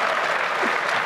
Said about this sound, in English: Each time I say shit, something is clapping